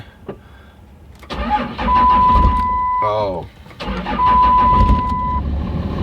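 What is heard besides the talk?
Cummins diesel truck engine cranking and starting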